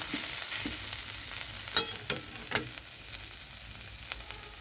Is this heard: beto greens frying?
yes